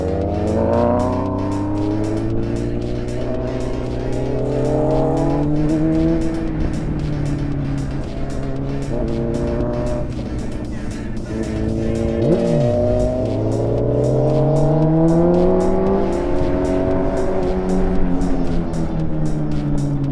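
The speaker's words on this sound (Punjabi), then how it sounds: "ਪਲਵਿੰਦਰ ਭਾਅ ਜੀ ਦੀ ਬਾਈਕ 'ਤੇ ਆ ਰਹੇ ਆ ਅਤੇ ਕਾਫੀ ਜ਼ਿਆਦਾ ਉਹਨਾਂ ਦਾ ਵੀ ਲਾਊਡ ਐਗਜ਼ੋਸਟ ਹੈਗਾ ਆ।" A motorcycle with a loud exhaust rides a mountain road in Himachal, its engine note rising and falling steadily through gear changes for about twenty seconds, continuous and fairly close with no talking.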